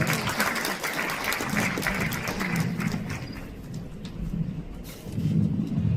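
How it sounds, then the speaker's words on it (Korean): Audience at a Korean political report meeting applauding to welcome a union leader to the podium, broad clapping that thins and fades midway, then swells again briefly with low rumbling room noise. "큰 박수로 맞아주시기 바랍니다"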